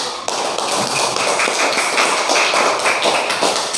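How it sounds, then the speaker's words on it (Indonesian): Classroom applause after a student presentation: a dense, continuous patter of many hands clapping together, steady and fairly loud for the full stretch, with no talking over it. "Kasih aplaus."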